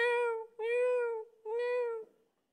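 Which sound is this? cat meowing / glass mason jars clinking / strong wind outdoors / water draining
cat meowing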